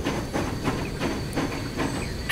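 Train rolling along in the simulation game Transport Fever 2, a steady rumbling run with repeated rhythmic clacks and a faint hiss, heard alone at moderate loudness.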